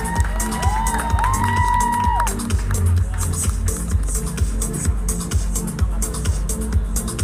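A crowd at a stage event in a Thai shopping mall cheers and applauds in a dense, continuous wash of clapping and shouts, while an amplified voice speaks briefly over it.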